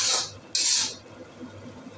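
Masala being stirred and roasted in a pan over a low flame: two short scraping, rasping strokes of a spoon against the pan, fairly close, followed by a faint soft sizzle.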